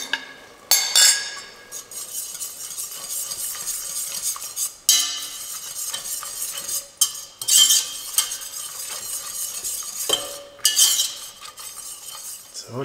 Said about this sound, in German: Die Milch kocht. Und jetzt gebt ihr hier die gemahlenen Walnüsse dazu.